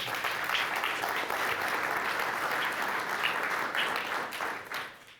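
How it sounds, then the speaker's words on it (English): Dense audience applause at a conference session on forest protection and nature financing, a steady, fairly close wash of many hands that fades out near the end. "please give a round of applause for us"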